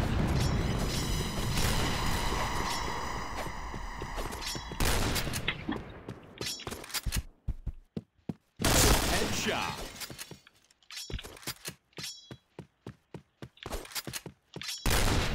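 Gunfire in the shooter video game Point Blank: dense automatic bursts give way to rapid single shots and impacts, loud and sharp with brief gaps between volleys.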